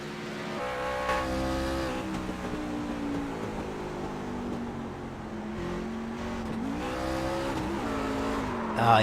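Race car at Lucas Oil downshifting, its engine note stepping and dropping in pitch as it tries to carry momentum through a slide, loud and continuous, with a brief higher squeal near the end.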